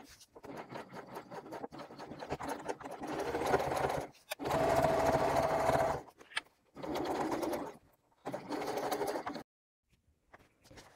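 A sewing machine reinforces the seam where a crossbody bag's exterior meets its lining, running in several separate bursts of a few seconds each with quiet gaps between them, close and fairly soft.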